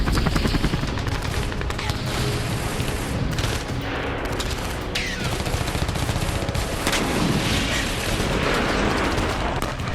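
Heavy gunfire and bombardment in war footage of an Israeli raid on Iranian-proxy sites in Syria: dense, continuous volleys of shots and booms fill the whole stretch, loud and close, with no talk over them.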